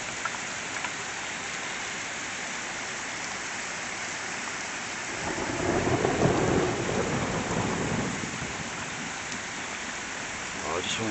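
A summer thunderstorm brings steady rain falling on surfaces, with a deep roll of thunder swelling midway before easing back into the continuous downpour.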